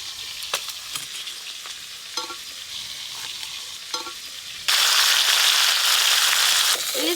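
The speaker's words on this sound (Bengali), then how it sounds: "ইলিশ মাছের মাথাগুলোও লাল লাল করে ভাজা হয়ে গেছে" Hilsa fish heads fry in hot oil with mustard-oil style spice, giving a steady loud sizzle that swells into a dense crackling roar, with scattered scraping stirs before it.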